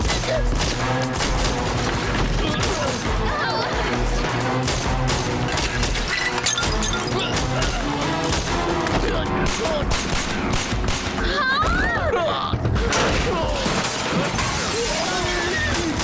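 Dense bursts of action-movie gunfire crackle continuously, mixed with crashes and shattering, while voices shout faintly beneath the din.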